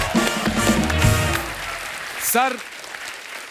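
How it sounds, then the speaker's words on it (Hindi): Audience applause on a comedy show stage: a burst of clapping and cheering with a tonal musical or vocal sound mixed in, then fading, followed by a short spoken voice. "गुरुदेव की जोरदार तालियां इनके लिए।"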